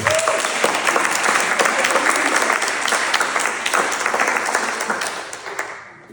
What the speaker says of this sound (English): let's give our presenter a round of applause.